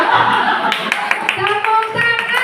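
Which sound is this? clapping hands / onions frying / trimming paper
clapping hands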